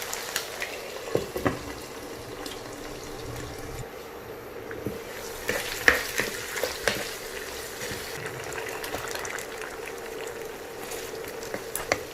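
Chicken pieces frying in oil in a partly covered pan, a soft continuous bubbling sizzle with scattered faint pops and light clatter, fairly quiet and steady.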